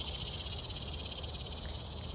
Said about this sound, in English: You hear them cicadas, man, they strong here.